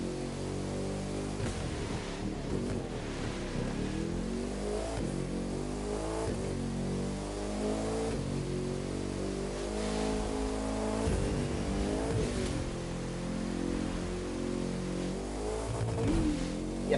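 A race car in The Crew 2 racing game revs hard through repeated gear changes, its engine note climbing and dropping in close, loud bursts, with occasional tire squeal and no talking.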